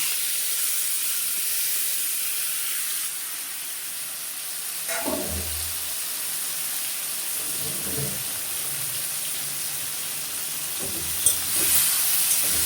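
Onions hit a hot pan of fried whole spices with a soft sizzle and hiss, followed by a few scraping stirs and clinks, close up with no talking.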